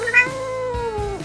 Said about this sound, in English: A baby cat is called a kitten.